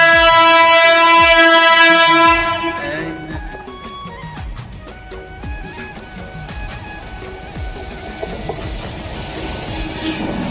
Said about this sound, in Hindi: ये आते ट्रेन।